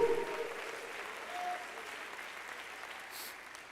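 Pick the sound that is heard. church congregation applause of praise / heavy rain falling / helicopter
church congregation applause of praise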